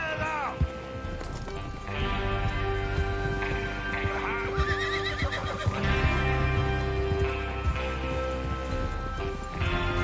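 Horses whinny and neigh in Red Dead Redemption 2, with hooves clopping and rain falling in the background as a voice speaks over the scene.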